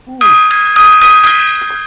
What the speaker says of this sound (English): gong time.